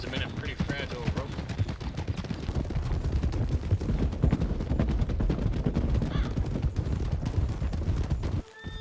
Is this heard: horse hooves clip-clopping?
yes